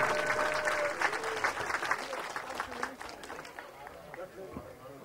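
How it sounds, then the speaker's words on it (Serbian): Outdoor crowd at a village sports olympiad in Majdanpek, Serbia, gives a round of applause for the sponsors, dense clapping that stays strong and gradually thins out over a few seconds. "Jedan aplauz za sve sponzore."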